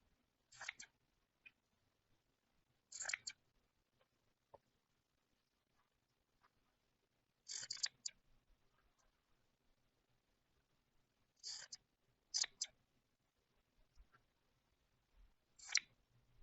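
Scissors snipping fabric pieces for a crazy quilt, quiet close crisp snips in short clusters separated by long silent gaps.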